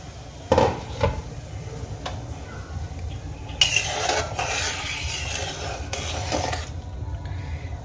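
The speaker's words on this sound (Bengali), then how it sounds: "এবার আমি ঢাকনাটা খুলে নেবো" A metal lid is lifted off a pot of fish curry gravy simmering on the stove, giving a few sharp clanks and scrapes spread over several seconds against a low, steady kitchen background.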